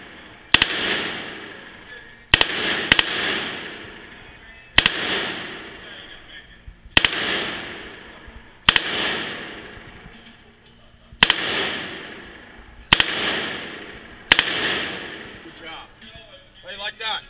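Handgun shots fired at a shooting range: eight sharp, loud reports, each one echoing and trailing away, spaced a second or two apart with some fired in quick pairs, and a voice speaking briefly toward the end.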